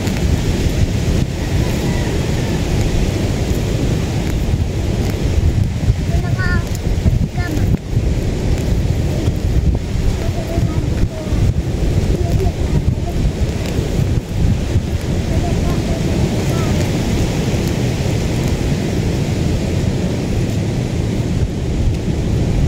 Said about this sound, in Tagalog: Mahangin. Mahangin na.